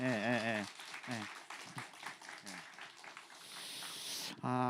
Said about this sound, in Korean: 저기 김재윤 선생님 가셔서 잘 하시라고 저 박수 한번 쳐주시면 좋겠습니다.